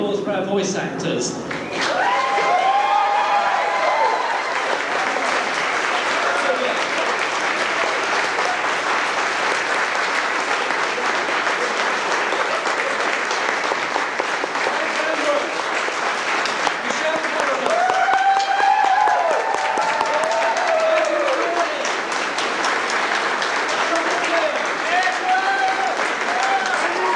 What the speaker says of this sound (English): Big round of applause for our voice actors.